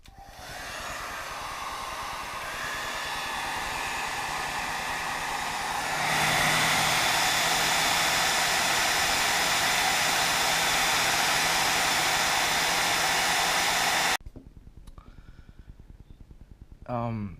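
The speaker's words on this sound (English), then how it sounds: "I'm going to use hair dryer to heat this screw here" A hair dryer blows hot air onto a screw on a Tudor Pelagos titanium watch, a loud steady roar that swells stronger partway through and cuts off abruptly near the end.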